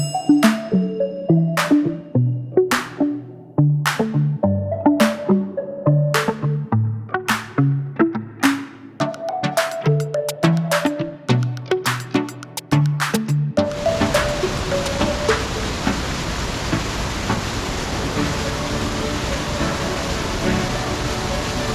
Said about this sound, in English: This is Savage Falls.